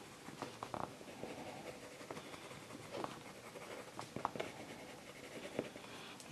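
Colouring pencil shading the trim of a small teacup drawing, quiet scratchy strokes in irregular short runs, close but faint, with no talking.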